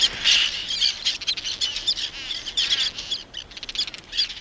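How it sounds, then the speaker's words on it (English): Seabirds at a lagoon call in a dense, continuous chorus of high, shrill chirps and squawks, close and overlapping, with no voices present. "These seabirds time their breeding cycle to coincide with the easy prey washed into the lagoon by the full moon tides."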